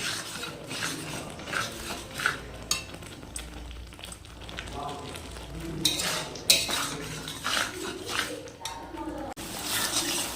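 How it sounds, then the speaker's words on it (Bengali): Sidol, a traditional North Bengal dish, is stirred and sautéed in a sizzling pan, with a utensil scraping and clinking against the metal in irregular bursts over a soft fry hiss, with faint voices in the background. "এখন এটা সুন্দর করে কষিয়ে নিতে হবে।"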